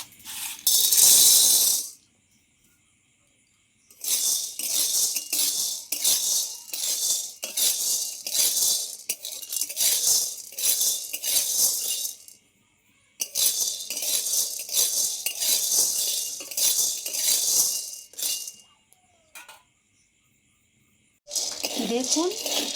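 Sun-dried kabuli chickpeas dry-roast in a pan for homemade coffee powder. They are stirred in bursts of loud, gritty rattling and scraping, with a few pauses of near silence between.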